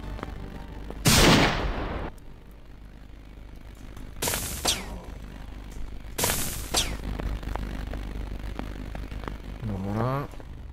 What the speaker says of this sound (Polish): ja chyba mogę jakieś mocniejsze strzały robić,